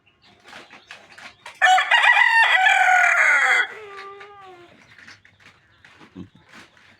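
A rooster crows once, loud and close, a long harmonic call that rises, holds and then trails off in a falling tail, with faint background murmur before and after.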